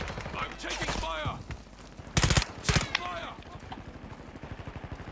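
Bursts of automatic gunfire from Call of Duty: Modern Warfare II rattle in rapid runs, with two louder close blasts in the middle, while players talk over the fire.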